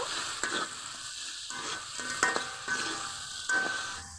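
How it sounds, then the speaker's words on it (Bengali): Steady soft sizzling of spiced crab frying in oil, with occasional light clinks and stirring scrapes. "এখন মুচমুচি করে ভেজে নিব"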